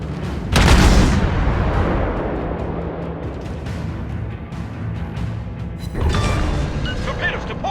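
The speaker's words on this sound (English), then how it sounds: "I'll change targets and focus fire down the Bluskawitsa that's re-engaging" Ship guns fire at an enemy ship in World of Warships: a heavy booming salvo opens, its rumble fading under game noise, then another burst of firing follows with crackling effects.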